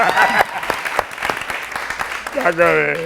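Scattered clapping from a small talk show audience, with a voice speaking over it and a sung or drawn-out vocal near the end.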